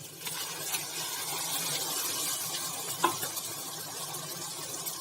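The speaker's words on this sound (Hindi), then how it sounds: "और अब मैं इसमें टमाटर डाल रही हूँ।" Steady hissing sizzle of tomatoes frying in a hot pan of masala for pav bhaji, constant and close, with a single soft clink of a utensil midway.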